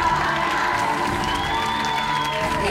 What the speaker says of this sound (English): Give them all a massive round of applause